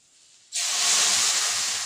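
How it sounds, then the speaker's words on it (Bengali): Water hits a hot pan of bitter gourd and potato curry with ginger paste, bursting into a sudden loud, steady hiss after a brief quiet moment and continuing strongly. "অল্প নেড়ে চেড়ে দিয়ে দেবো জল"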